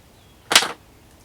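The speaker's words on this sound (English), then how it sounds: "Trim this one, use the little scissors here." Small scissors snipping a tomato cutting in a cattle panel greenhouse, a single quick close snip standing out against a quiet background.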